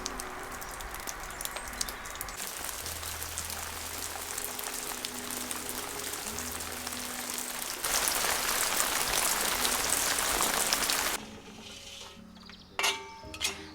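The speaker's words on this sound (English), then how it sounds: "The rain has finally arrived here in central Portugal" Steady rain patters on surfaces of a stone house in central Portugal with dense hiss and scattered drips, getting heavier partway through before easing off near the end.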